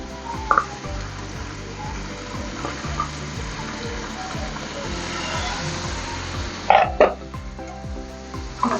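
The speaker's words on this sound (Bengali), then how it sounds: "তারপর আমি এই পেঁয়াজ এগুলো যেগুলো ধুয়ে রেখেছিলাম সেগুলো একটু ভেজে নেব" Washed onions fry in a pan over a lowered gas flame, a continuous close sizzle with occasional stirring clatters and a few louder crackles toward the end.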